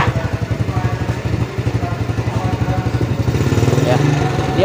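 A Yamaha Jupiter Z motorcycle engine idles steadily close by, a rapid even putter that firms up slightly toward the end, with a faint voice underneath.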